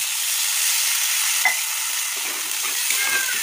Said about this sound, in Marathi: आता आपल्याला ह्यात घालायचं आहे पाणी